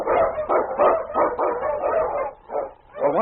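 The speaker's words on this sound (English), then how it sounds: "The Wonder Dog King, swiftest and strongest of Eskimo lead dogs, blazes the trail through storm and snow for Sergeant Preston" Husky sled dog, an Eskimo lead dog, barks repeatedly in a steady run of loud, close woofs with brief pauses, set in an old-time radio adventure drama of the Yukon.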